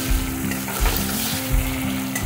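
Cumin stirred into food frying in a pan, a steady sizzle with low scraping strokes recurring about every three quarters of a second, close and fairly loud.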